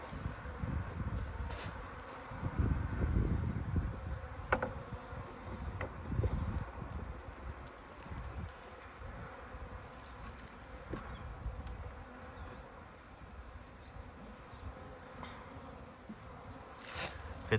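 Bees from a newly set-up beehive drone softly through the scene, a dense insect buzz with brief louder passes of individual bees near the start and end.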